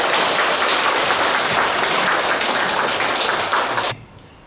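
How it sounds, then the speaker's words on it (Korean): A large audience at a Buddhist dharma service applauds a senior monk after his sermon: dense, sustained clapping at steady loudness for about four seconds, then cutting off abruptly into quiet room tone. "큰 스님께 다시금 감사의 큰 박수 부탁드리겠습니다."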